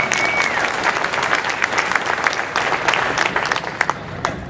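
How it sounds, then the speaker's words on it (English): An audience gives a round of applause at a farewell event, a steady dense wash of many hands clapping at close-to-moderate distance, with a few louder claps and faint voices mixed in. "Let's give them a round of applause."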